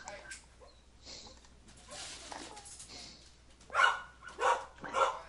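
A dog barks three times in quick succession, moderately loud and fairly close, after a stretch of faint background noise.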